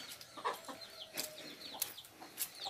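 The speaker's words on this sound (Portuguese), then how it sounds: "Galinha tá fazendo o que aqui?" Chickens clucking in a muddy, slippery backyard, with several short close calls scattered irregularly over a quiet outdoor background and no talking.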